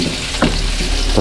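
Garlic sautéing in hot oil in a pan, a bright continuous sizzle with a couple of short stirring scrapes, close and fairly loud.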